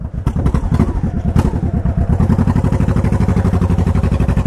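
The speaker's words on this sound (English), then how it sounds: "this bike runs pretty good" A motorcycle fitted with ape hanger handlebars idles close by, its engine throbbing in a steady, even lope of rapid pulses that holds loud and constant throughout.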